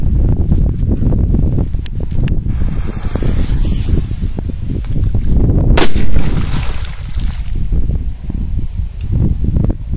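Loud, rumbling firecracker blasts and bangs boom repeatedly over a river through constant roaring noise, close and harsh, with a sharp crack near the middle.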